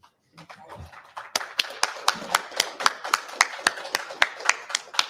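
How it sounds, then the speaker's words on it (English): Applause from a crowd of reporters and fans at a post-show wrestling media scrum after AEW Double Or Nothing in Glendale, Arizona: steady, fairly close hand claps building after a brief quiet start. "You guys can keep the applause coming"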